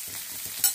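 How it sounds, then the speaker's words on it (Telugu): Onions and green chillies frying together in a pan for egg fry, a soft, steady sizzle with faint stirring scrapes and a brief louder rustle near the end, heard alone. "ఇలా బాగా ఫ్రై చేసుకోవాలి ఆనియన్స్ అండ్ మిర్చి"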